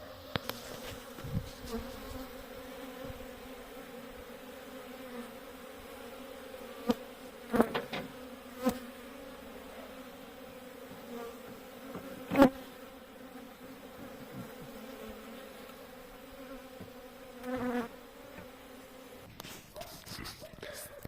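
A bee buzzes steadily and close by for a long stretch, its drone wavering, with a few faint bumps and rustles along the way.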